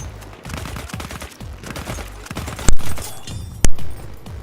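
A three-round burst rifle fires in Battlefield 1 as rapid clusters of shots crackle over battlefield noise, followed by two loud, sharp blasts close to the listener.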